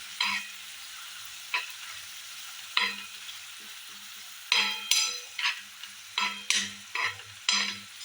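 Vegetables with turmeric sautéing in a hot pan, a spoon scraping and stirring in repeated strokes over a steady background sizzle, close and fairly loud, with no voices.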